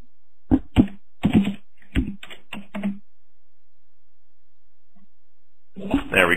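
Keys on a computer keyboard are tapped out in a short series of crisp, separate keystrokes, close and clear, followed by a quiet pause before a voice begins speaking.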